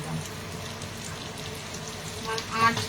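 Nargisi kofta coated lightly in flour sizzle in hot oil in a wok, a steady soft crackle and hiss throughout at moderate level, with a slightly louder burst of spitting near the end.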